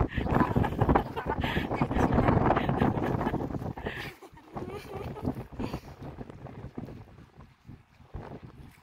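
Strong wind gusts buffet the microphone beside the water near a boat, a loud rushing roar that eases after a few seconds into rougher, intermittent bursts, with voices talking now and then.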